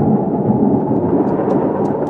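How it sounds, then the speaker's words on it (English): Deep rolling thunder with rain underneath, a loud sustained low rumble that swells and holds across the whole stretch, used as an effect during a reading of Burns's Tam O'Shanter, with no speech over it. "loud, deep, and lang the thunder bellowed."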